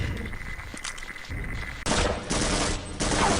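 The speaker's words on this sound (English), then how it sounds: "Suppressing fire." Gunfire bursts out in the first-person shooter Half-Life during a firefight, loud rapid shots in dense clusters with sharp breaks between volleys.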